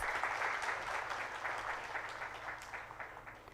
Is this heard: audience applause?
yes